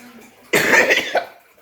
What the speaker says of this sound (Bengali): কাশিটা ভালোই আছে